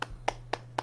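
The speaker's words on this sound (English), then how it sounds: "Claps for you." Four sharp hand claps in an even, quick rhythm, close and dry, with nothing else between them.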